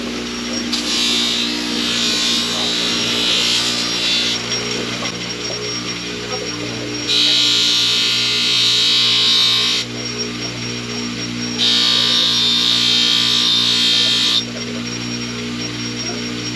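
A buffing wheel polishes a blade with blue compound, giving a steady high whirring hiss in three separate passes of a few seconds each over a constant motor hum, close and fairly loud.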